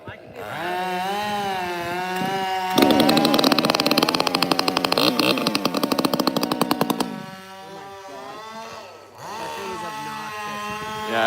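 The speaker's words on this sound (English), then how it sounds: "The only thing about rip saws is they're so loud." A climbing rip saw cuts through trees in Biddeford, Maine, its loud rapid engine buzz bursting in for several seconds of chattering cutting before dropping away, with voices talking before and after.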